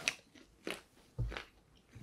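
Chewing on Korean BBQ seasoned fried chicken with a thin batter, three close crunchy bites spaced about half a second apart, with no talking between them.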